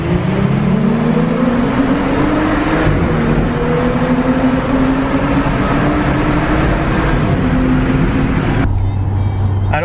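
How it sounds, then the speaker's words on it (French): Audi S5 coupé with quad exhaust driving on the road, a steady loud engine drone with rising pitch as it accelerates and continuous road and wind noise throughout. "on a une quadruple sortie d'échappement qui sonne un petit peu"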